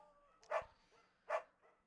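A beagle in the video game Firewatch gives two short, separate barks, moderately close, with quiet game ambience between them.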